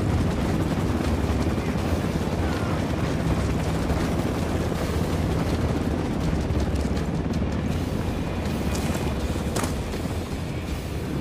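Apache attack helicopter in the tactical shooter Ghost Recon, a dense, loud continuous rotor roar filling the whole stretch, with faint bursts of combat noise underneath.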